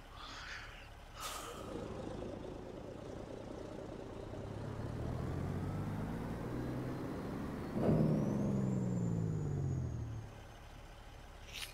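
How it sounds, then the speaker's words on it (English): A car with a broken muffler rumbles nearby with a rough, uneven exhaust drone, its pitch sweeping up and down as it revs, with a brief air-brake hiss. "This car behind me needs this muffler fixed."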